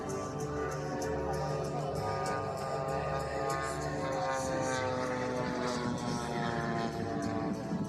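Radio-controlled model aircraft engine at the Southern Model & Craft Show at Headcorn Aerodrome, a continuous loud propeller drone with a steady pitch and layered engine harmonics from one or more planes flying nearby.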